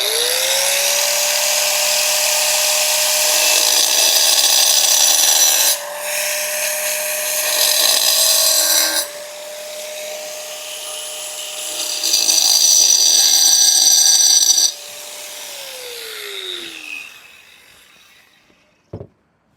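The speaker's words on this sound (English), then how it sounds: "I'm going to make some really light cuts with this grinder, just nicking the surface" An angle grinder makes light nicking cuts into porcelain tile, a loud sustained high-pitched whine with several grinding passes over about fifteen seconds before the motor winds down, ending with a sharp click.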